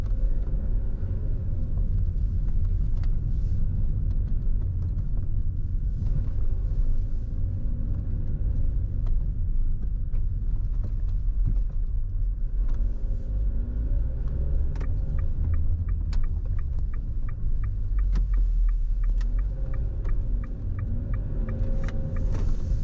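Car cruising along the old lakeside toll road by Lake Shikotsu toward Route 453 in Hokkaido, heard from the passenger seat as a continuous low road rumble and engine drone, with a run of faint rhythmic ticks partway through.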